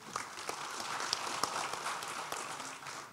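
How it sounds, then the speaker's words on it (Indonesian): Quiet, fairly distant clapping from a conference audience greets an answer during a panel at FIS 2022, a soft patter with a few sharper claps and no speech. "kita kasih tepuk tangan buat jawabannya"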